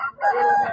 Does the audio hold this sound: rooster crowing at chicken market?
yes